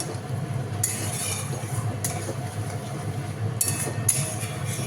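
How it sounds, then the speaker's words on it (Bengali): Spice masala and potatoes fry in a pan under a continuous low sizzle, with several sharp bursts of hissing and scraping as the mixture is stirred. "মশলাটা কষাচ্ছি তার সাথে আলুগুলো দিয়ে দিলাম"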